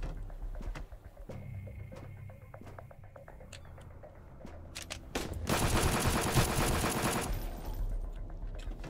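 Automatic SMG fire in the survival game Sunkenland, with scattered single shots and clicks giving way to a loud, dense sustained burst in the middle before tapering off.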